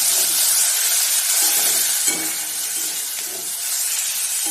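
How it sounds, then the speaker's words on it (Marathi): Vegetable masala with tomato frying in a pan, giving a steady, close sizzle and hiss with no talk. "आपण हे छान भाजून घेऊया मसाला छान शिजवून घेऊया"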